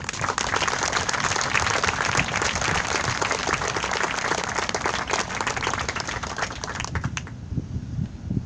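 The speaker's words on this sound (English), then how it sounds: "We get a round of applause for everybody that put this together real quick." A room of colleagues claps at a retirement gathering, a dense, sustained round of applause that stays level and close before cutting off abruptly near the end.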